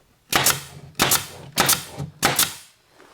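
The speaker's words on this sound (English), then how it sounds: "So when I take a staple gun and I" A staple gun fires four times, sharp and loud, as it fixes a back panel in place. The shots come at roughly even intervals, each a crisp snap at close range, with no voices.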